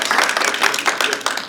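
Breakfast-meeting attendees greet a guest speaker with applause, a brisk, close burst of many hands clapping that stays loud and busy throughout the short stretch.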